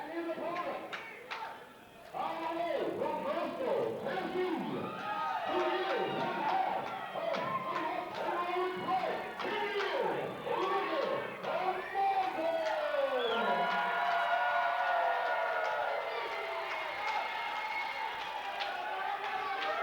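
Crowd cheering at an independent pro wrestling TV taping in Chesnee, South Carolina, steady roaring noise under commentators talking continuously, swelling louder later.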